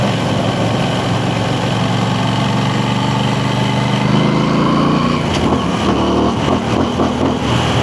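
An Aprilia Tuono 660 motorcycle engine runs steadily at around 4000 RPM, a loud, continuous drone with changing rev character in the final seconds.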